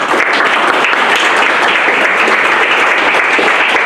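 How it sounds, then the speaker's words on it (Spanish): Loud, sustained audience applause fills the room for nearly four seconds at a veterinary science conference, steady and dense with no talk over it. "Un fuerte aplauso, por favor."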